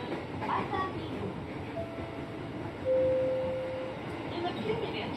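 A KRL commuter train rolls into Pasar Minggu station with a steady rumble and clatter heard from inside the car, a brief high tone sounding over it, with faint voices in the background.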